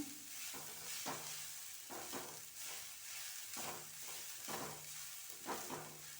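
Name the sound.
grated coconut frying in pan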